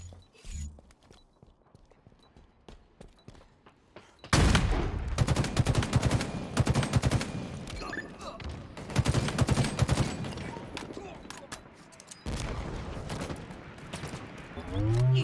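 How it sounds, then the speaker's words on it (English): Rapid bursts of gunfire, including sniper rifle shots, in a Halo esports match, dense and loud after a quieter start, with a caster talking over the action. "using that sniper rifle to some great effect"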